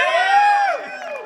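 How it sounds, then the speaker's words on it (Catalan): A festival audience at Espluga's Pride celebration cheers and shouts for a performer named Quim, a short loud burst of crowd voices and whoops that fades after under a second. "Un aplaudiment més fort pel Quim"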